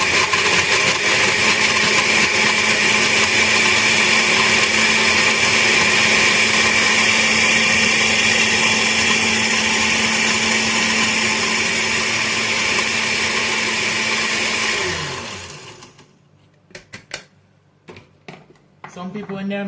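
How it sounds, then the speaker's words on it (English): A blender whirs loudly and steadily, blending pineapple, melon, guava and a whole lime with juice, then cuts off and leaves a few faint clatters. "I'm putting it in the blender now, and I'm going to blend it with some of the juice."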